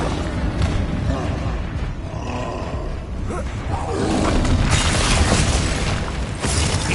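A Confringo blasting spell explodes in Hogwarts Legacy with a loud, sustained roaring blast that swells louder partway through, dense rumble filling the whole passage.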